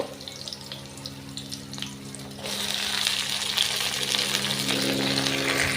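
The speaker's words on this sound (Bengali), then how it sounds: "পেঁয়াজ রসুন এটা আমি হালকা একটু ভাজা দিয়ে নিব আর একটু তেল বেশি করে দিছি।" Onion, garlic and leafy greens frying in a generous amount of oil, with a low murmur that jumps to a loud, steady sizzling hiss partway through and holds to the end, with no talking.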